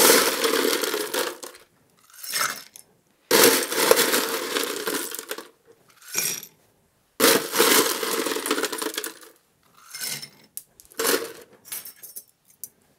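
Ice for a gin cocktail rattles and clatters loudly in several bursts, cubes knocking into a glass or tin with sharp crunchy clinks separated by short silences.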